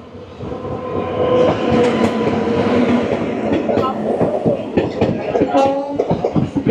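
A ten-coach Samaleswari Express on the Howrah to Jagdalpur route rolls loudly into the platform. A heavy rumble carries rhythmic wheel clatter and metallic squeals over rail joints throughout.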